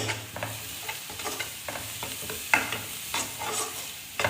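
A spoon scrapes and stirs spices through a sizzling pan while making green garlic chutney, with irregular clinks over a steady crackle of frying.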